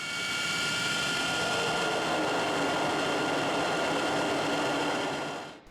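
Four Olympus turbojet engines on an Avro Vulcan bomber give a loud, continuous howling roar with a steady high whine, holding for several seconds before cutting off abruptly at the end.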